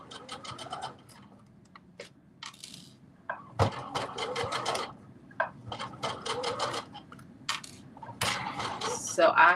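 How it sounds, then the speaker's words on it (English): A sewing machine stitches along the top of a fabric face mask in short, intermittent runs of quick rattling bursts, fairly faint and close, separated by brief pauses. "am literally just sewing along the top"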